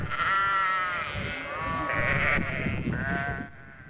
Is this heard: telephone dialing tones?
no